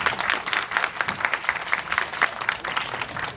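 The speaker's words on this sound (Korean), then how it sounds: "박수 한 번만 보여주세요." Steady audience applause fills a room after a community talk session, many hands clapping densely at a moderate, even level with no voices over it.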